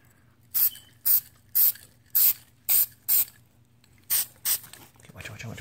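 A matte finish coat is sprayed onto a firearm in a series of eight short, evenly spaced aerosol hisses. The bursts are close and loud against quiet gaps, and a rustle of handling follows at the end.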